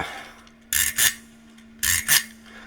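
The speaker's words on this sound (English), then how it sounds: "stick along the ribs of the fish, or the fins, or whatever they are, the ridges, and you get that ridgy scraping sound." A stick scraped along the ridges of a wooden fish percussion instrument: two pairs of short, bright rasping strokes, close and dry, with a pause between each pair.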